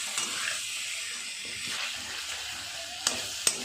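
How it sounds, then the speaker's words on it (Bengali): Chicken with potatoes and papaya sizzles and fries in a pan, a soft continuous hiss with faint stirring scrapes and two sharp utensil clinks near the end. "আমি আলু আর পেঁপেগুলোকে দিয়ে দেবো, দিয়ে আরও ভালো করে কষিয়ে নেব"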